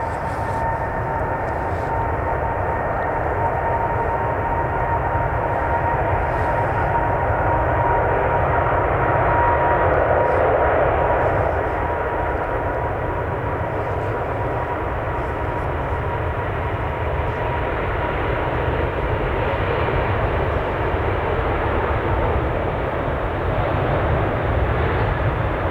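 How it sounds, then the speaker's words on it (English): An Emirates Airbus A380 jet departs Manchester Airport, a steady, loud engine roar that holds for nearly half a minute with no talking. "finally the big A380 is going"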